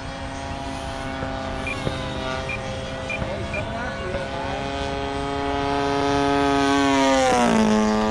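A Havoc model airplane taxis out, its electric motor whining steadily with harmonics close by, then rising in pitch and loudness toward the end.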